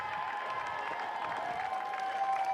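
A distant stadium crowd of Bison fans cheers and claps after a gold medal at a Summit League outdoor track and field championship, a steady, faint wash of applause and voices with a few whistles.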